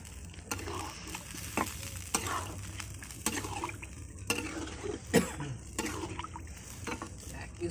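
Meat is stirred and cooked in a pot over a wood fire, giving a gentle sizzle with repeated scrapes and knocks of a utensil against the pot. Voices talk intermittently in the background.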